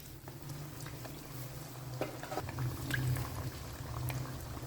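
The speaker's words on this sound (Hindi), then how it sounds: "हम पूरा जिसे कहते हैं कि डीप फ्राई करेंगे" Chicken kachori deep frying in oil over a low flame, a steady bubbling sizzle with soft popping and crackles throughout, moderately close and uninterrupted.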